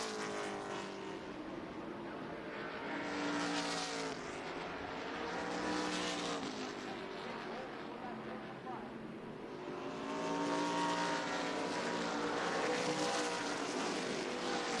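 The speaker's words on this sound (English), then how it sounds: "A lot of race cars stacked up in a very short space." Race cars in an ARCA Menards Series West race roar around the track in a tight pack, their engine notes swelling and falling in waves as they sweep past, loud and continuous throughout.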